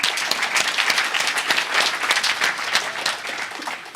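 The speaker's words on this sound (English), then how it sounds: "Give yourselves a round of applause." An audience at a memory-training workshop applauds itself, a dense, even burst of many people clapping that runs the whole stretch and tapers slightly near the end.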